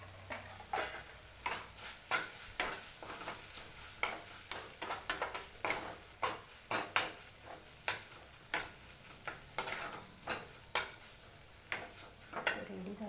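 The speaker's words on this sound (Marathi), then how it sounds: "शेंगदाण्याचा कूट टाकूया एक चमचा परत एकदा परतून घेऊया" Tomato chutney with crushed peanuts is sautéed in a pan, a spoon or spatula scraping and tapping in a steady rhythm of repeated strokes over a faint sizzle, fairly quiet and close.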